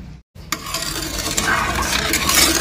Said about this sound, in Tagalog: hahaluin ko siya guys hanggang sa matunaw yung asukal